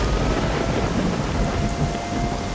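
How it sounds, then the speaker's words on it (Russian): Thunderstorm in the game S.T.A.L.K.E.R. Shadow of Chernobyl: a steady, loud wash of heavy rain with deep rolling thunder rumbling throughout, no voices present. "Гроза, сирена, вообще дичь."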